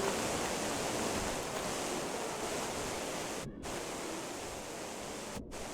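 Steady, loud broadband rush of a waterfall in the video game Gothic Remake, continuous throughout with two very brief dropouts, no voices.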